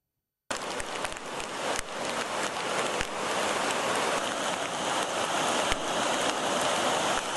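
Heavy, continuous rain pours down in the Nilgiris hill district around Avalanche, a dense steady hiss starting abruptly after a brief silence and holding loud throughout, with no voices.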